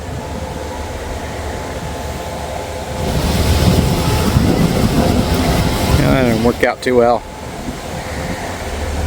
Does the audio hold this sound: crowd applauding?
no